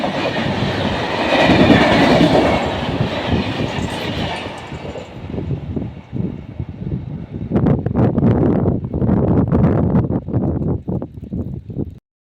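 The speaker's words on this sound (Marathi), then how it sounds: "एक जलद गाडी जाणार आहे." A fast non-stop train roars through an Indian railway station platform, a loud rushing rumble with wind noise that gives way to rhythmic clickety-clack of wheels over rail joints before cutting off.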